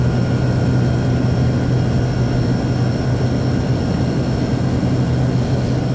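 A 1976 Emerson Quiet Kool Dynamic Series 18,000 BTU air conditioner running outdoors in the cold, its Westinghouse fan motor giving a steady, loud, droning hum with a low tonal whine that stays constant throughout.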